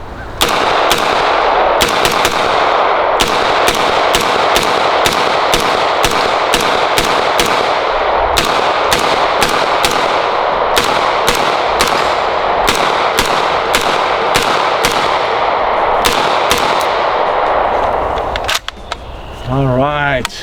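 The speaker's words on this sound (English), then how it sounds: "we're gonna shoot and see how this thing sounds" A Century Arms AP5SD fitted with a faux suppressor fires repeatedly in rapid strings and single shots outdoors, loud and sharp throughout, followed by metallic handling noises at the end.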